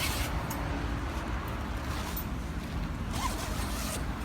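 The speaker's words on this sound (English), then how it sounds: "So you basically just unzip both sides." Zippers on a padded cover for an RCF HDL 50-A line-array speaker being opened, a steady close rasping zip running for several seconds without pause.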